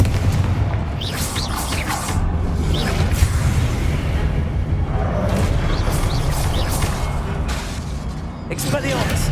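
Confringo blasting-spell explosions in Hogwarts Legacy, with repeated booming bursts and whooshes over dense combat noise, as a voice calls out spell names throughout.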